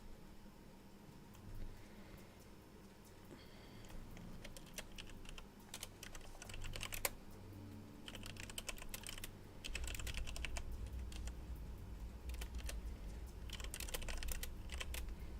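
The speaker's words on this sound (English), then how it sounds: "Sorry, typing." Steady typing on a computer keyboard, quick clattering keystrokes in uneven bursts, faint and close against a low background hum.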